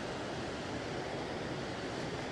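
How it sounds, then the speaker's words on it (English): A big waterfall in Oregon in winter, a steady, full, broadband rush that holds evenly throughout without pause or voices. "this is a big waterfall"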